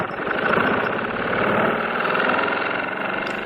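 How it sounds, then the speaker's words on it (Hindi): A bus engine runs in a steady, loud, continuous drone with a rough knocking vibration, holding constant throughout. "इंजन चल रहा था।"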